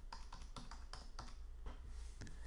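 Rapid quiet keystrokes on a computer keyboard as a username and password are typed, a close run of irregular light taps with no voices.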